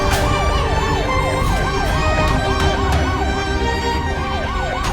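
An ambulance siren wails in repeating rising-and-falling cycles, loud and steady over a low engine-like rumble, in a Hindi crime drama scene.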